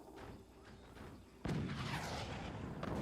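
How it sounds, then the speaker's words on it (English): A small anti-air cannon in a multiplayer video game fires a sudden heavy boom, followed by a sustained rumbling wash of distant battle noise and a faint later thump. "They sniped that out with a cannon."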